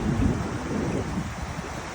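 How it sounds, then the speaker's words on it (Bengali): Waves on the Saint Lawrence River roll in a steady, broad wash with gusts of wind buffeting the microphone, a continuous outdoor rumble with no voices. "বছরের 12 মাস কিন্তু একই রকম ঢেউ এই সেন্ট লরেন্স নদীতে থাকে।"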